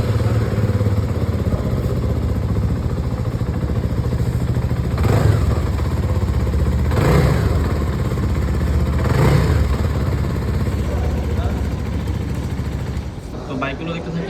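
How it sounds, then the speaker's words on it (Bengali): A CF Moto 250 NK motorcycle engine idling at close range with a steady rumble, rising into three distinct revs before settling back, with murmuring voices in the background of a showroom. "চলেন আপনাদেরকে 250 NK এর সাউন্ড একটু শোনাই"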